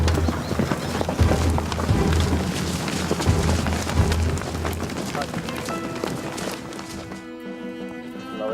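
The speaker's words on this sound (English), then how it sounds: "When Javier Martin is not herding cattle, he gives displays of traditional Spanish horsemanship." Horse hooves clip-clop in a lively rhythmic beat during a traditional Spanish horsemanship display, close and steady under ongoing talk, before music takes over near the end.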